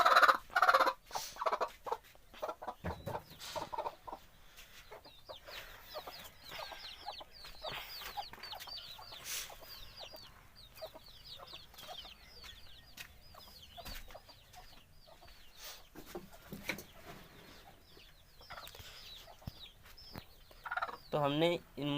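Desi hens clucking and murmuring softly as they are settled into nesting spots, a steady run of close, low clucks over a quiet background.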